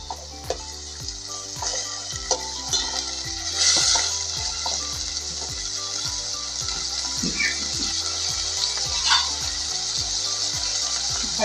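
Chopped tomato and green chillies sauté in a hot pan with a steady, bright sizzle, broken by regular soft clicks of stirring throughout, close and continuous with no talking.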